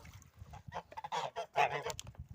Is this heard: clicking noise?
no